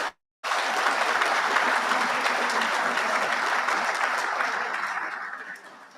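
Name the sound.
audience applause at awards ceremony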